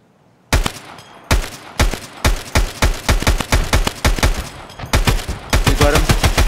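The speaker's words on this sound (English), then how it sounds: "I'm going to the grenade launcher and I'm gonna do the grenade thing" An AGS automatic grenade launcher fires in Escape from Tarkov on the Reserve map near the dome: loud, evenly spaced thumping shots repeating about three times a second after a short silent start.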